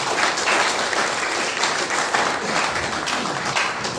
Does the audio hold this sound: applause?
yes